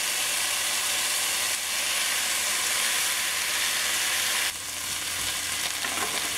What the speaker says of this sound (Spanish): cuando las cebollas ya se acitronaron, ponemos el sazonador y el jugo de limón